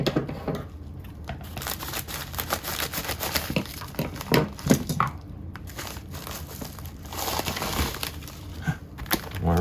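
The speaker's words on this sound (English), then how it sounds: "More wrapping paper." Wrapping paper crinkles and tears as a gift is unwrapped, with dense, irregular rustling and crackling bursts close by, swelling and easing over several seconds without talk.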